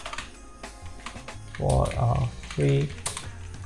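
Rapid keystrokes on a computer keyboard while someone types ad text, steady and close, heard beneath someone speaking.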